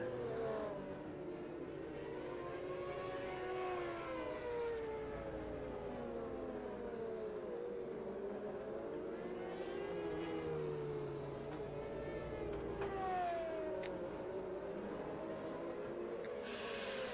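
Race cars lapping together in the iRacing simulator during a 14-car feature race, engines whining and rising and falling in pitch through shifts, a layered steady roar of several nearby cars, with no voices.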